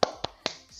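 Hands clapping in a short rhythmic cheer led in a group training session, with three sharp, close claps evenly spaced and a softer fourth trailing off.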